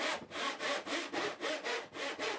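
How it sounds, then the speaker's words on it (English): A tenon saw cuts across a wooden board in steady back-and-forth strokes, about eight rhythmic rasping passes, close and clear with no talking. "I remove the side piece and use the tenon saw to cut across the board."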